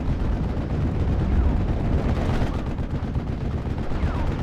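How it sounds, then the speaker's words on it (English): Continuous, heavy battlefield rumble of mortar and gunfire in Steel Division: Normandy 44 amid Normandy hedgerow fighting, booming low and dense throughout with overlapping impacts and no pauses. "Just going to continue the mortar fire onto these units."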